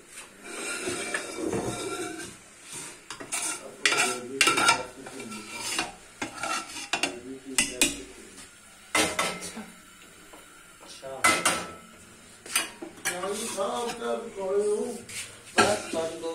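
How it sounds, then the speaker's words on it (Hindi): Meat and spices being stirred and fried in an open pot for a winter dish in Islamabad, with steady sizzling and repeated scraping and clattering of a spoon against the pot under speech. "तो देखिए गोश्त हमने अच्छे से भून लिया है।"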